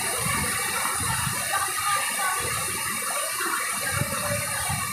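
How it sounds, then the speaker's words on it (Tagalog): Water cascading at Pinsal Falls in Nueva Ecija, a steady broadband rush that stays constant from start to finish without pause. "ganda ng patak ng ano tubig eh"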